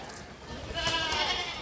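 Large dairy goats offered at a livestock sale bleat loudly and close by, one wavering cry rising after a short pause, with a faint voice in the background.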